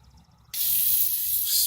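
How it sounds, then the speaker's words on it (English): A can of penetrating lubricant such as WD-40 sprays onto a BMW E36 car differential, a sudden steady hiss starting after a short quiet moment and continuing close and loud to the end. "spray the shit out of all of it"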